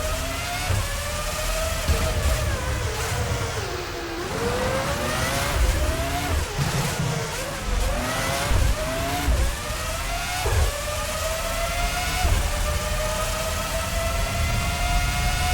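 High-pitched Formula One engines from the Formula One 05 racing game on PlayStation 2 whine and rise through repeated gear changes, several cars passing close and loud over a continuous roar.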